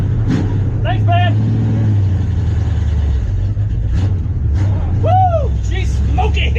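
A car engine roars loudly and continuously during a burnout competition, heard close with a steady low rumble while people shout and talk over it.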